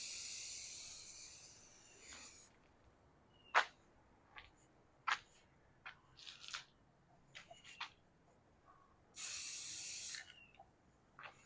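Spray paint hisses onto the back of an acoustic guitar neck in two bursts, one at the start and another near the end, with scattered quiet clicks and handling noises between them.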